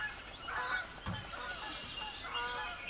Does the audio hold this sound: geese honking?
yes